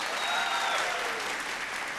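A large audience at a televised singing competition finale applauds, a dense, even roar of clapping mixed with faint cheers and a short whistle, sounding somewhat distant.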